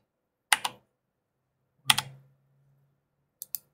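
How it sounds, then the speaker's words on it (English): Typing on a computer keyboard that is misbehaving: three short, separate bursts of clicky keystrokes, close and crisp, with silence between them and no voices. "Sorry, my keyboard is not behaving."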